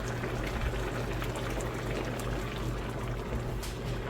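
Heavy whipping cream poured into a simmering vodka sauce for rigatoni, a steady, close bubbling and pouring wash over a low hum, continuous throughout with no talking.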